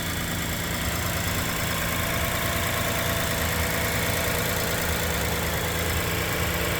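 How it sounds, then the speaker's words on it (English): A 2017 Toyota Highlander engine idling steadily, a continuous low hum with an even mechanical drone and no voices. "So let me go ahead and record the engine."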